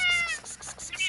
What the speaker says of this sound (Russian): Начинаю кормление котов.